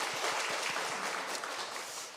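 A church congregation claps in praise to God, a soft, distant wash of steady applause with a few clearer claps near the start.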